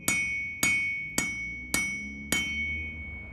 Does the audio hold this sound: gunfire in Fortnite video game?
no